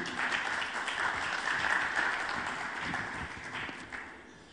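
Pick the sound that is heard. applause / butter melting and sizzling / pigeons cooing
applause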